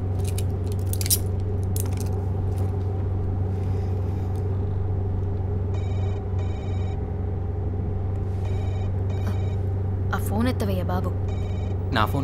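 A telephone rings during a dramatic film scene, its electronic ring coming in short repeated double bursts over a steady low hum and busy background noise.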